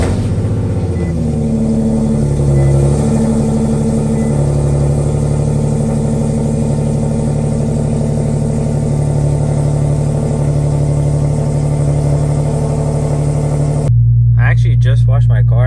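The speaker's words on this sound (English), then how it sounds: "Let's go ahead and get a little cool start." Infiniti Q50 engine after a cold start, a loud steady rumbling idle with rising and falling revs, then a sharp change near the end as the note shifts to a higher, harsher tone.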